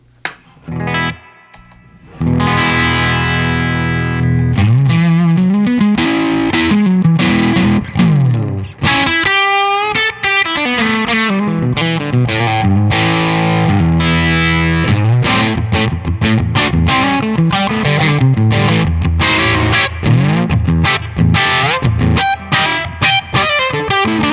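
A Josh Smith rig effects pedal, fed by a Fuzz Face into a Plexi amp, colours a loud, driven electric guitar. Busy, distorted lead lines and chords play continuously for over twenty seconds with no talking.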